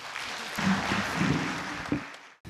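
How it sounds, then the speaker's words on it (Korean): Moderate applause from an audience at a Korean American Day celebration fills a short stretch, steady clapping that swells then tapers off before fading out. "더욱더 격려 박수 한번 보내주시기 바랍니다."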